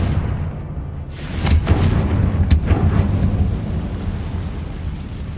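Explosive Confringo spell blasts in the Hogwarts Legacy video game: two sharp, booming bursts land over a steady low rumble, then the din rolls on without a voice.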